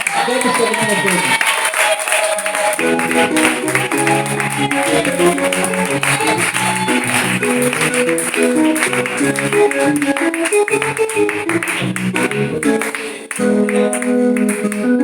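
A congregation at a New Year's Eve prayer vigil claps and cheers for the king, steady loud applause running throughout over sustained music and singing.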